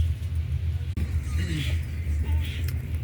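Almost empty airport bus idling at a stop by a forum in Mersin, Turkey, before leaving for Çukurova airport: a steady low engine rumble throughout, with faint background babble and no clear nearby talk.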